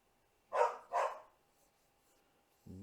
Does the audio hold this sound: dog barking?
yes